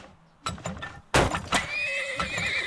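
A horse in the video game Turmoil neighs in a loud, shrill whinny, preceded by a few soft clip-clop hoofbeats and trailing off in a quavering tail.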